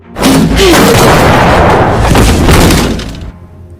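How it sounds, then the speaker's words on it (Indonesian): A loud, booming gunshot from the video game The Last of Us Part II rings out close and heavy, sustaining for about three seconds before fading, with no talk. "ketika itu juga Ellie langsung menembak"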